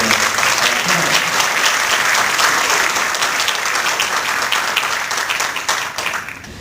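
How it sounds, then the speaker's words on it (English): A full room applauds a student trustee at a city council at-large debate in Fitchburg, a thick, sustained wash of clapping that holds loud for several seconds and then thins and fades toward the end. "Let's have a round of applause for"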